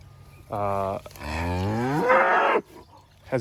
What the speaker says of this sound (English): Everyone's mooing.